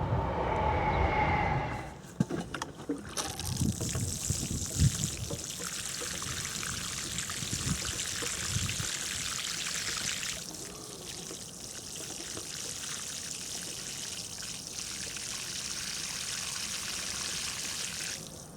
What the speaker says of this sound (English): What I'll do now is just give them a drop of water